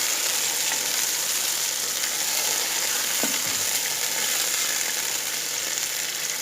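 Chicken sizzling in hot oil in a large pot for Punjabi degi biryani, being stirred; a continuous loud frying hiss with a brief scrape of the spoon midway, no talk.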